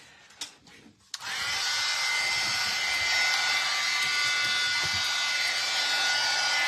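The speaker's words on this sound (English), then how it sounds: "I'm gonna get my trusty heat emboss thing" A heat embossing tool switches on after about a second and blows hot air in a steady, loud broadband whoosh, used over stencilled book pages for embossing.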